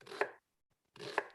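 Two short bursts of a knife chopping through an onion, with a silent pause between them, close and fairly quiet in a home kitchen while cooking akhni.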